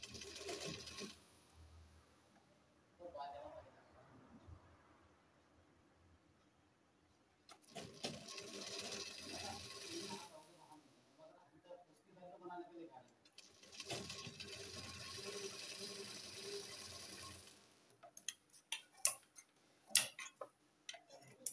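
Sewing machine stitching around a kurti neckline in short bursts of rapid mechanical ticking, moderately loud and close, with pauses between runs; someone talks in the gaps.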